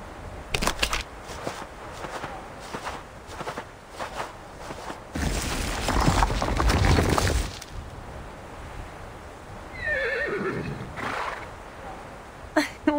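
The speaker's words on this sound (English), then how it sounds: "Sounds like a horse to me." A horse in the video game Reverse: 1999 gives a loud whinny near the end, preceded by a scattering of hoof clops and shuffling steps, with ambient game sound throughout.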